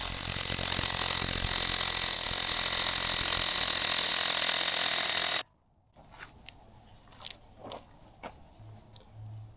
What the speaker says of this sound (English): let's go ahead and drill these 1/2-inch holes